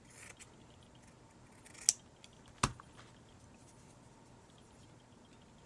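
Scissors make a couple of sharp, quiet snips while trimming excess cheesecloth on a homemade book label, isolated cuts against a faint, hushed background.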